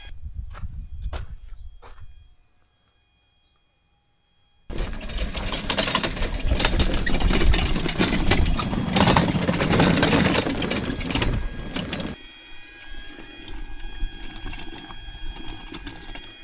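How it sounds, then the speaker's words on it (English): A petrol engine-driven water pump runs steadily, pumping water into a storage tote; after a short silence the motor starts loud and close with a rushing churn of water, then settles to a lighter, steady running hum. "I gotta pump some more water in here."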